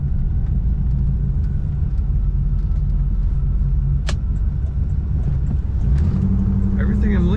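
A 1982 Chevrolet Corvette Collectors Edition engine drones steadily from inside the cabin while driving, a low rumbling hum that rises briefly near the end, with someone talking over it.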